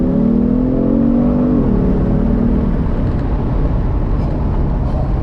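A Genesis G70 sedan in sport mode accelerates hard from inside the cabin, its engine pitch climbing, dropping at a gear shift and then climbing again under loud, steady road and engine roar.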